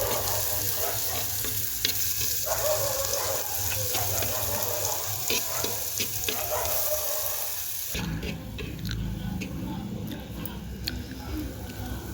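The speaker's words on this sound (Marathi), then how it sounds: "कांदा टाकलेला आता परतून घ्यायचा." Onion sautéing in a pan for a chana usal masala, a continuous sizzle with stirring scrapes throughout and a brief change in tone partway through.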